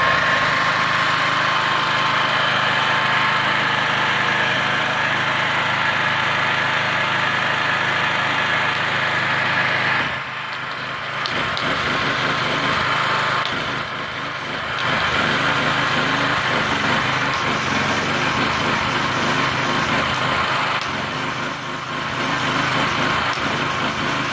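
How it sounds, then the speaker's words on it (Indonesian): A petrol-fuelled generator, type GJA 39, runs steadily with a loud, close engine drone, dipping briefly twice as the load shifts, with no voices. "Genset ini menggunakan bensin murni ya."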